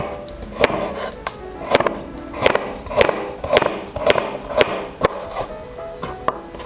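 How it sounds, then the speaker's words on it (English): Knife chopping carrots into thin slices on a wooden board for Buddha's Delight, a steady run of about a dozen close, crisp thwacks at a quick even rhythm. "Cut the carrots into thin slices."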